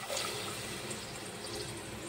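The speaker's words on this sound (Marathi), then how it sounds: "आणि 1 तांब्या पाणी टाकून घेऊया आपण." Water poured from a small pot into a pressure cooker for rajma and rice, a steady close-up splashing and gurgling pour lasting the whole moment, with no talking.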